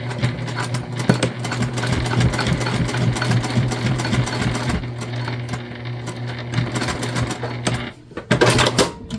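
A sewing machine runs nearly continuously while back stitching a seam on a bag, a close, even motor hum with rapid needle clatter, stopping near the end with a few brief clicks.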